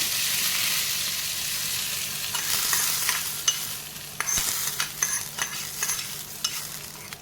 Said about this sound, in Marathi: हा तडका आपण या चटणीवर टाकून देऊया।